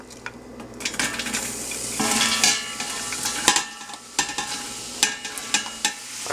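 Chopped onion hits hot olive oil in a large soup pot, a soft sizzle under repeated scraping stirs and clinks of a utensil against the pot, with uneven bursts of activity.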